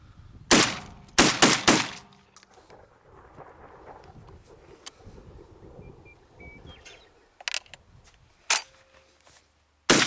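A brand-new, stiff Tristar Raptor 12-gauge semi-automatic turkey shotgun fires loud, sharp blasts outdoors: a quick string of four shots early on, then three more spaced single shots, with faint background noise in between and no talking.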